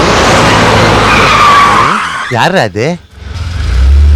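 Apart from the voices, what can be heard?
vehicle approaching with tires skidding, film scene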